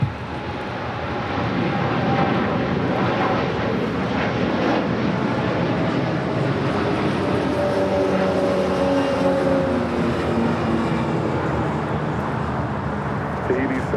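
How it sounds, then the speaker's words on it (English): An Air Tahiti Nui Boeing 787-9 Dreamliner takes off at LAX with a continuous, loud jet roar that swells slightly and carries a rising engine whine. Someone talks over it. "This is Air Tahiti Nui, Flight 7, taking off to Papeete on a 787-9 Dreamliner."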